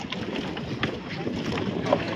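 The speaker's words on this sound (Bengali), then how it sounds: "সবকটা স্পিড বোট দেখুন এখানে হন্ডার ইঞ্জিন" Speedboats with Honda outboard engines at an Andaman island beach on Havelock, heard as a steady broadband motor and water rush mixed with heavy wind buffeting the microphone throughout.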